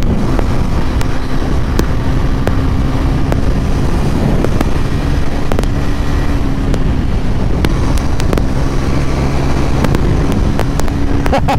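A Bajaj Pulsar NS 400Z motorcycle being ridden hard, its engine droning steadily and loud throughout, buffeted by strong wind noise with sharp clicks scattered across the ride.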